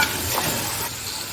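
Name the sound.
tomato paste sizzling while cooking in a pan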